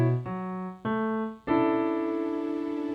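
Piano chords from a major-chord voicing lesson, played without the sustain pedal: three separate chords struck in turn, each ringing briefly and decaying before the next, the last held longer, close and clear with no talking.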